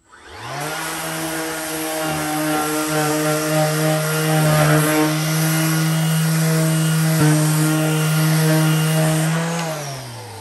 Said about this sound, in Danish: nu er jeg klar til at slibe